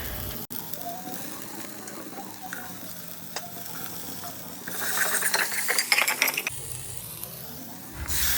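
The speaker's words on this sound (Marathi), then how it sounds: "सोबतच टोमॅटो आणि बटाटा हे टाकून छान परतून घेतलं." Tomato and potato with turmeric being sautéed in a pan, a close crackling sizzle with scraping stirs and metal spoon clinks that grow busier and louder toward the end.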